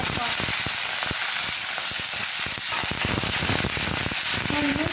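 Thuthuvalai leaves frying in a hot pan, with a steady, loud sizzle and crackle that holds without a break for the whole stretch.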